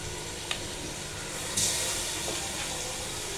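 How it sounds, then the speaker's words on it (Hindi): Meat dropped into a hot pot for chicken pulao, a burst of hissing sizzle rising sharply and then settling into a steady frying crackle. "ये देखिए डाल दी हमने, इसको करूँगी फ्राई।"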